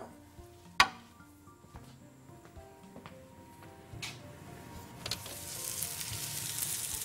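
A beef burger patty frying in a pan, a low, steady sizzle broken by a few sharp clicks and taps of utensils, with the hiss swelling louder toward the end.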